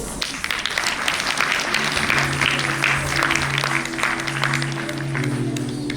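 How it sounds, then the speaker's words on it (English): A round of applause for guest J.J. Valaya at an evening event, with a crowd clapping steadily and fairly loudly over a low sustained musical drone that continues throughout. "also have a round of applause for our guest for the evening, Sir J.J. Walaya"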